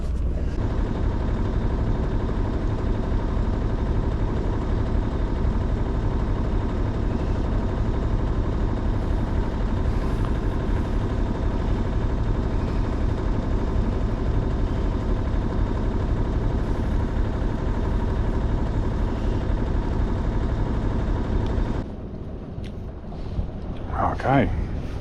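A sailboat's engine drones steadily up close, an unbroken low rumble with a faint tonal hum, until it cuts off abruptly near the end, leaving only quiet background and a brief voice.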